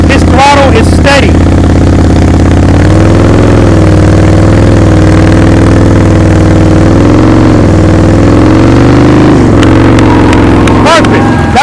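A motorcycle engine holds a steady throttle during slow-speed riding practice, a loud, close, even drone with a constant hum throughout. Brief voices rise above it near the start and again at the end.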